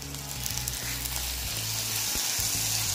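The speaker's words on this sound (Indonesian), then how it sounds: "Aduk sampai ayamnya matang dan warnanya putih." Chicken and onion stir-fried in a pan for mini martabak filling, giving a loud, continuous, close sizzle with a low rumbling hum beneath and occasional stirring.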